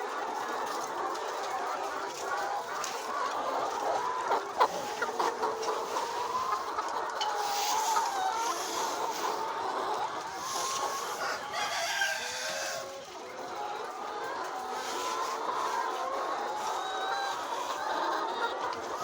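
Hens cluck and chatter on a poultry farm, a busy overlapping flock with a rooster crowing among them, steady and fairly close throughout.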